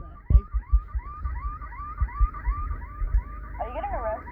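A car alarm in a tornado survival video game wails in steady repeating sweeps, loud and close, with thumping game sounds beneath and a brief warbling tone near the end.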